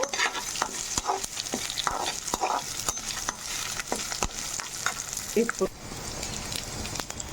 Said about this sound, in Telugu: అంటే పోపు దినుసులన్నీ బాగా వేగిపోవాలన్నమాట.